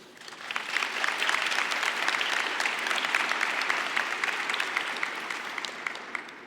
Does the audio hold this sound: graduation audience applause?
yes